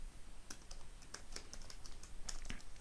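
Typing on a computer keyboard: a run of soft, close key clicks at an uneven pace, faint against a steady background hiss, with no talking.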